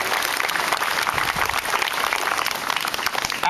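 A crowd at an outdoor September 11th event in Marine Park applauds Flatlands Ambulance with a dense, sustained wash of clapping from many hands throughout.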